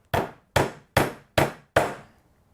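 Small magnetic hammer striking a nail, five sharp evenly spaced blows, close and clear with nothing else heard.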